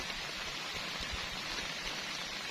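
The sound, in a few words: rain at night on a camping tent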